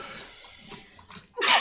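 A single close sneeze bursts out at the end after a short breathy intake and some faint rustling, loud and alone with no talk.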